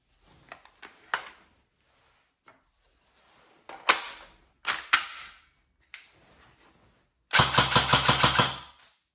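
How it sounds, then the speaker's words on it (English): A Cyma Colt XM177E1 (M609 clone) airsoft rifle fires close by: scattered mechanical clicks and single snappy shots, then a rapid full-auto burst of about eight shots, with no voices. "So now I show you some shooting footage."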